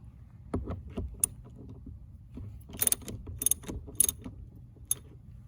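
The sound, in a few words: extended socket wrench removing 17mm service stop fittings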